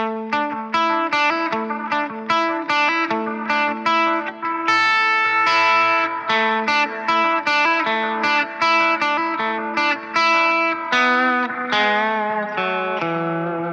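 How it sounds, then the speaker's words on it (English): Electric guitar played through a POD Express with analog delay and a not-so-bright plate reverb, picking a steady melodic riff of sustained notes, loud and alone with repeating echoes trailing each note. "I've got an analog delay and the plate reverb, which is set to not so bright"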